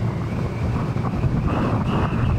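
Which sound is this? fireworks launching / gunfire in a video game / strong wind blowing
strong wind blowing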